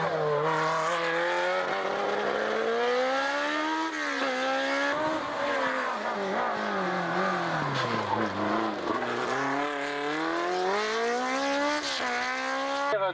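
Barquette race car at a hill climb start line, its engine howling loud and close through rising and falling revs for the whole stretch, with gear changes and fluctuating pitch and no talk over it.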